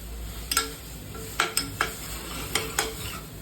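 Food sizzles in a frying pan while a spoon stirs and scrapes it to keep it from catching on the bottom, giving repeated sharp clinks in small clusters over a low steady hiss, with no talking.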